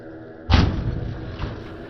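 A computer crashes onto the ground with a single deep, heavy thump, followed by a lingering rumbling decay and a faint second knock.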